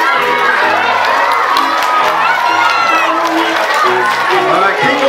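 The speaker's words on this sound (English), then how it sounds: "Give them a round of applause, Tighes" At a primary school Easter hat parade, a loud, continuous crowd of parents and children cheers and shouts, with high children's voices prominent and scattered talk mixed in.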